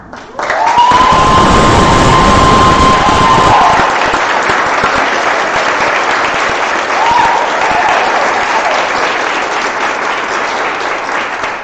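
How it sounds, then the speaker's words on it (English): An audience at a graduate school commencement ceremony applauds for standing faculty, a loud burst of dense clapping that starts sharply and holds steady for around eleven seconds, with no talking over it. "ask them to stand, and give them a teeny tiny brief round of applause"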